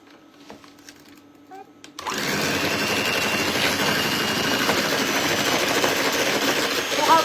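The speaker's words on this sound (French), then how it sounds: "Et je vais le mixer." An electric hand mixer whirs into life after a quiet moment, beating egg yolks and sugar in a bowl with a steady, loud buzzing drone that holds to the end.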